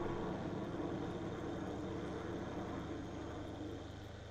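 Jets flying over a farm in Farming Simulator 19, a steady broad roar at moderate level that fades slightly toward the end, with no talk.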